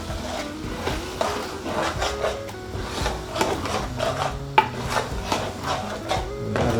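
Minced chicken and pea curry being stirred in a pot, a steady close scraping and rubbing of spoon against metal with wet, shuffling texture throughout, alone with no talk.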